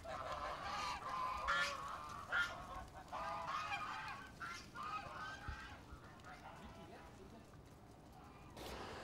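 Geese honking in Liège, a flock giving repeated loud, clustered honks in bursts, near and fairly busy, with voices faintly audible at times.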